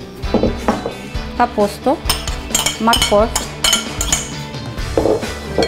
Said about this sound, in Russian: Мы закладываем полностью все, что мы нарезали, в казан.